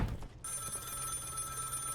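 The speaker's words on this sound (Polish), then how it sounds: "Dzwoni, ale to uparty. On cały czas dzwoni." An office telephone rings in the Contraband Police video game, a steady tonal ring that continues over a low background hum after a brief thump at the start.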